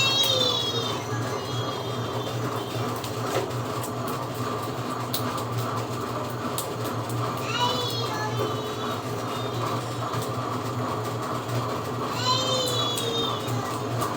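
A cat meows repeatedly in high, drawn-out cries over a steady low rumble, with three distinct calls spread across the stretch.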